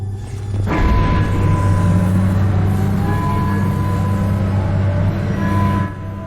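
A tram in Mass Effect 2 rolls along with a loud, steady low rumble and mechanical hum that starts abruptly, holds for several seconds, then cuts off near the end.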